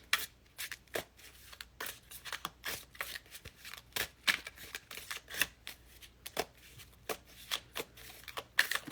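Tarot cards are shuffled repeatedly in quick riffling bursts, close and crisp, with short pauses between each shuffle and no talking.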